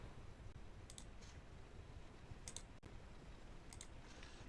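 Mouse clicks on a PC while copying a script, a few faint, quick clicks in pairs spread over a quiet background hiss.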